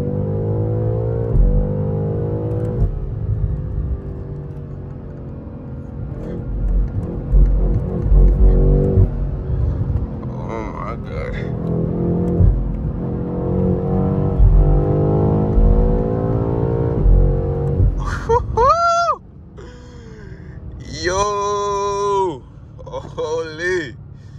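A stock-exhausted BMW M8 Competition revs loudly and up close, its engine note rising and falling in repeated sweeps, with a person talking over part of it.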